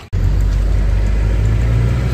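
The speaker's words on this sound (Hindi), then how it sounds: "तो देख सकते हैं बहुत ही पावरफुल और दमदार इंजन है ये" A 1971 Willys Kaiser M38A1 military jeep engine starts into a loud, close, steady low rumble that holds evenly for about two seconds, with no voices over it.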